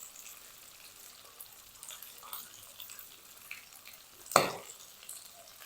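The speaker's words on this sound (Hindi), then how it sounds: "मज़ीद हम इसको मिक्स करते हुए 1 मिनट तक और कुक करेंगे" Pieces of beef tikka boti frying with whole dried coriander as they are stirred in a pan, a continuous low sizzle with light scraping and one sharp clatter of the spoon near the end.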